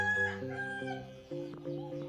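A rooster crows nearby, a drawn-out call followed by a second crow, with no talking.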